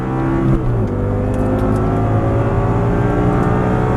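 An Audi R8 on a race track, its engine roaring loud and close as it accelerates, the note climbing after a brief dip, with a steady high-revving drone throughout.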